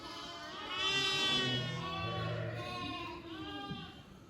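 Sheep and newborn lambs bleat on a farm during lambing season, several wavering calls overlapping one after another, moderately near and fairly quiet, with no talking.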